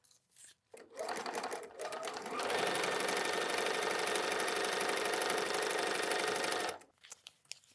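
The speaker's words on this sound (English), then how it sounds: "we will start sewing" Sewing machine stitching a foundation paper pieced quilt block, running in a steady continuous burst of several seconds after a couple of short starts, close and loud with no talking.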